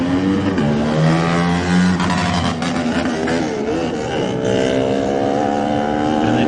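A Kawasaki racing motorcycle in the 2018 Isle of Man TT Lightweight race screams past close and loud, its engine note rising and shifting as it howls by under continuous roaring noise.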